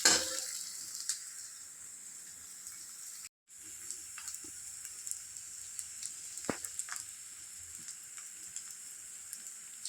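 Cubed taro roasts in a teaspoon of oil in a pan over a high flame. A quiet, steady sizzling hiss carries on throughout, with faint crackles and a brief break near the start.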